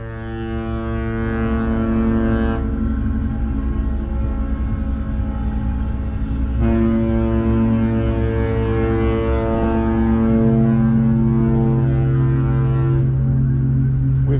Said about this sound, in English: A fuel barge got too close to that